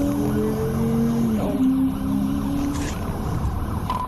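A Nissan Altima pulls away under steady, loud road and engine noise, with a rising tone sweeping upward around midway and some skid-like scraping in a busy, continuous wash.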